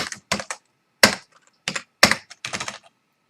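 Close, crisp computer keyboard typing while writing C# code comes in short irregular bursts of clicky keystrokes, separated by brief pauses, with no talking over it.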